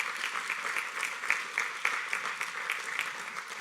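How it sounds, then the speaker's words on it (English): A crowd at a trucking company's Driver of the Year awards applauds the Midwest Reefer Division winner with steady, even clapping that runs unbroken throughout, with a few sharper individual claps standing out. "Please, round of applause."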